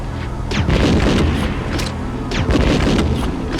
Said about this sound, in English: I'm gonna use a grenade launcher to clear out these zombies